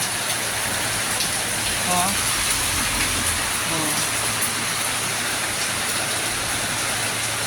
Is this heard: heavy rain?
yes